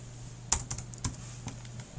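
Keys clatter on a computer keyboard in a short, uneven burst of close, crisp taps, about a dozen strokes over two seconds against a quiet hum.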